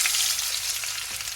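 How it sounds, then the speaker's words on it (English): Potatoes fry in hot canola oil in a cast iron skillet, a loud, dense, continuous hiss and crackle heard close up, with no talk. "once that gets hot, we're going to dump that whole batch of potatoes in there"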